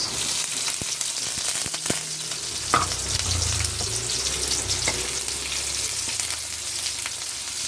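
Garlic and onion sizzle in a hot pan for a Filipino vegetable dish, a steady crackling fry with occasional stirring scrapes and clinks, close and without speech.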